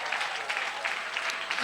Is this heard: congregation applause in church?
yes